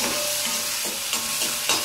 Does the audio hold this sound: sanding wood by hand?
no